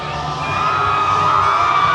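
An arena crowd at a Caged Aggression MMA event cheers and whoops as a fighter makes his walk to the octagon, a loud, sustained mass of voices roaring without a break.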